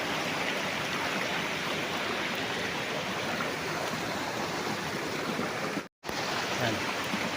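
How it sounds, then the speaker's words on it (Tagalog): A river flows along the boundary of a farm lot in Liliw, Laguna, giving a steady, full rushing wash that holds unbroken apart from one very brief dropout. "ipakita ko yung ilog ha, yan ang ganda"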